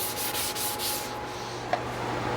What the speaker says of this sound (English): Just going to give it a little shine with some abrasive paste